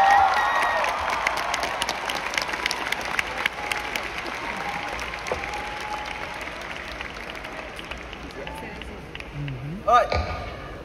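Concert audience at the Auditorio Nacional applauding and cheering for a guitarist introduced by a singer, a dense wash of clapping from a large crowd that holds steady for about ten seconds, then swells briefly near the end.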